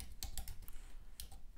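Someone types on a computer keyboard, a few quiet, separate key taps in a short burst, with no talk.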